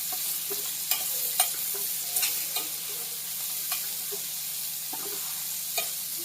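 Chopped onions fry in a pan with a steady moderate sizzle, punctuated by sharp crackles and stirring scrapes at irregular intervals, no voices present.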